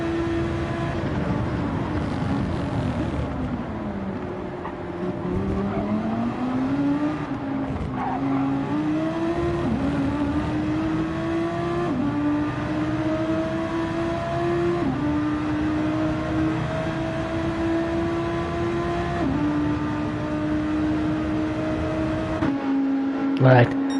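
Race car engines in a racing game endurance race at Yas Marina, with a sustained loud engine drone that rises and falls in pitch through gear shifts and braking, running continuously throughout.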